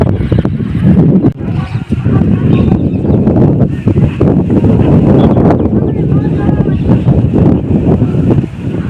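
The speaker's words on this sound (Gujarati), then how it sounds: "પવન બહુ છે અહીંયા" Strong wind buffets the microphone at the Parab Dham temple grounds with loud, gusty rumbling throughout, nearly drowning out faint voices in the background.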